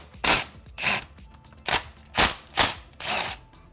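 Short bursts from a power tool spinning out 10mm bolts that hold lines to the valve cover of a 2003 Honda Accord with a 2.4 L K24A4 engine, six quick whirring pulses close up at an even rhythm.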